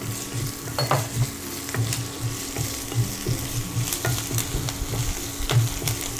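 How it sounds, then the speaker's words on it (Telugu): Curry leaves, green chillies, cashews and ginger-garlic paste fry in a pan for jeera rice, giving a continuous close sizzle broken by repeated scraping stirs and light clinks. "అల్లం వెల్లుల్లి పచ్చివాసన పోయేంత వరకు వేయించుకోవాలి"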